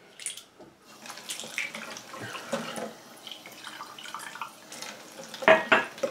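Water runs from a washroom tap into a cup, a steady trickling splash with small clinks and a louder burst of water near the end, close to the microphone with no talking.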